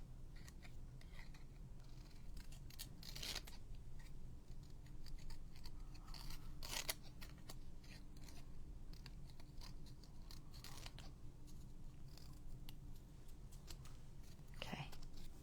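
Scissors snip through paper while cutting out a bat shape, a quiet close sequence of short, crisp cuts spaced a few seconds apart over a soft background hiss.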